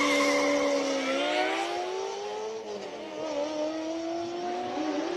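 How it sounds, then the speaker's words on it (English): A classic Ferrari accelerating hard up a hill climb course at Speed Classic Cape Town, its loud, smooth engine note rising steadily through the revs, dipping briefly at a gear change and then climbing again, with no voices. "What a glorious sounding Ferrari as he goes up the hill"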